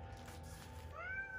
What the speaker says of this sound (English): we have a kitty in the background